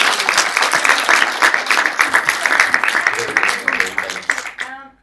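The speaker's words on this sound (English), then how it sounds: "I think we all should give a round of applause to us." Loud, rapid audience clapping after a film festival Q&A with a director at Raindance, sustained across the room and thinning out at the end as a voice begins.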